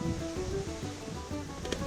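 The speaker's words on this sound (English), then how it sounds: "18th century water mill." Water runs steadily at an 18th-century water mill at Stratford Hall that is grinding white corn, a constant rushing wash with a low, uneven churning beneath it, heard close and fairly loud.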